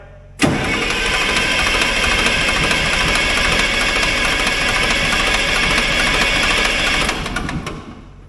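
An old Allis-Chalmers diesel military generator engine, left sitting for years, catches abruptly and runs at a loud, steady roar for about seven seconds before it shuts down and fades. No one speaks.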